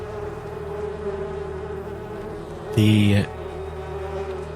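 Sound effect of enraged bees swarming a room, a dense buzzing drone under a voice, with a brief louder burst of harsher buzzing near the middle.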